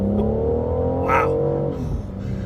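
A BMW 760Li full-size sedan with a large engine, driven in sport mode, revs up under acceleration in a short, strong burst with a rising engine tone, heard from inside the car.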